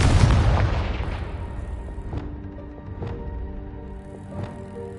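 A Confringo explosive spell in Hogwarts Legacy opens with a heavy boom that slowly fades out. Three or four sharper impact hits with short ringing tones follow.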